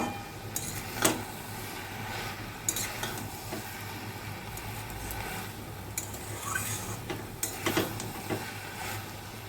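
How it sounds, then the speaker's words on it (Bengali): Banana flower curry cooked with Gobindobhog rice is stirred in a pan, a steady sizzle with scattered scraping clinks of the spoon, faint and close, with no talk. "এখন নেড়ে নেব।"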